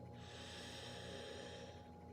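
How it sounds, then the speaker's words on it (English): A long, deep breath drawn in during a guided deep-breathing meditation, a steady airy rush held for about two seconds, close and alone with no talking. "take a deep breath"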